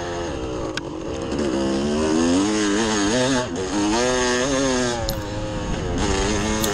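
A dirt bike engine at a hare scramble buzzes loudly and close, its pitch rising and falling in repeated waves as the rider works through berms.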